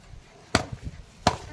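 A coconut struck open, two sharp hard cracks about 0.7 s apart with a few softer knocks between, close and fairly loud, no talk.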